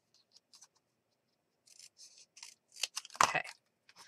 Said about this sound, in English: I think what I need to do is cut it